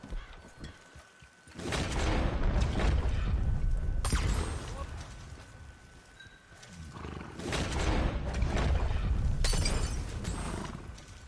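Fire bottles smash in Red Dead Online in several loud, crashing bursts, each followed by a roaring, crackling wash of flame noise, game effects against busy background sound.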